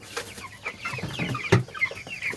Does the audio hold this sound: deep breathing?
no